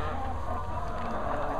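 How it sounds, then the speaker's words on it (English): Chickens on a small farm keep up a steady, dense mix of clucking and murmuring close by, with no clear pauses and no talk. "we've got more chickens"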